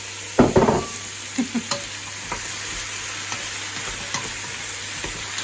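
Vegetables being tossed into a hot pan for a hotpot: a few quick thuds and clatters, then a steady soft sizzle with occasional stirring knocks, close and fairly quiet, with no talking.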